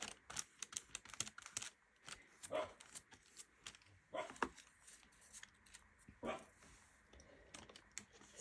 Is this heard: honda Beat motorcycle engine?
no